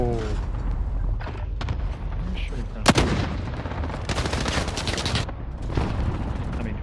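Gunfire in Call of Duty Warzone, with a burst of rapid shots and a loud sharp crack near the three-second mark, followed by further volleys over a continuous rumbling in-game background.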